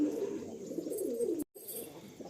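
Madrasi Malwai pigeons coo in low, throaty rolling calls close by, continuous and fairly soft, with a brief silent break near the end before the cooing resumes.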